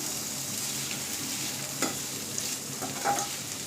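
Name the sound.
onions being stirred and frying in a pan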